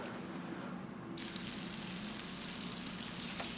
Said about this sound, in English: you want to go ahead and put on your toasted cheese sandwich